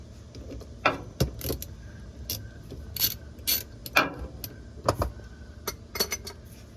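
Ratchet wrench clicking as a 12 mm nut is loosened from the shifter of a 1996–2002 third-generation Toyota 4Runner, irregular close metallic clicks and clanks in short bursts.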